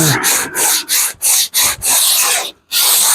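A surface is block sanded by hand with 80 grit sandpaper, a loud, close, steady run of rasping back-and-forth strokes with brief pauses between them.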